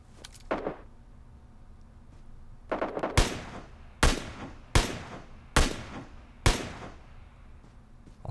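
Gunfire in PUBG Mobile comes as a few faint early pops, then a burst around the three-second mark, then five loud, sharp single shots spaced just under a second apart over quiet background noise.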